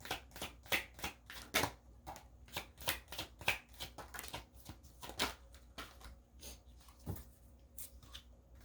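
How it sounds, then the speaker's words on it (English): Tarot cards are shuffled and drawn in a quiet room, giving a rapid irregular series of crisp flicks and riffles, close but fairly soft, with no speech over them. "Let's get the final card for the outcome between you both."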